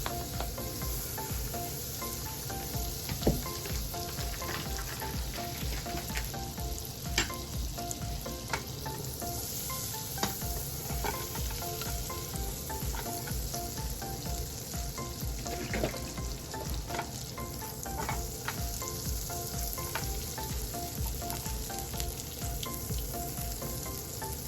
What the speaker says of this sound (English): now I'm gonna go ahead and melt some butter. And this is the plant-based butter